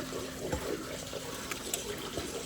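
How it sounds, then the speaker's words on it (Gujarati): Water runs steadily in a continuous broadband wash, close by, with no voices. "પાણી ચાલુ છે"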